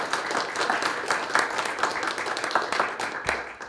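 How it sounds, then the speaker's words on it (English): An audience gives a round of applause at a gathering, a dense and steady patter of many hands clapping at moderate loudness with a little murmur mixed in, fading slightly toward the end. "you have to give them a round of applause"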